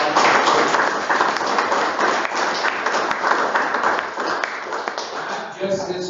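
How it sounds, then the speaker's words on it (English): A crowd at a veterans discussion panel claps steadily, a dense wash of applause that tapers off near the end as a voice begins. "start off with a good hand and round of applause"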